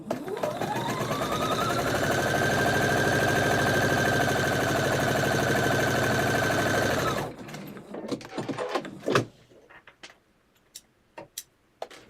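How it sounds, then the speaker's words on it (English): A sewing machine runs steadily, stitching a quilt block seam in one long continuous burst for about seven seconds, then stops, followed by scattered light clicks and taps of handling the fabric. "Now I'll take that to the sewing machine and stitch that last seam up"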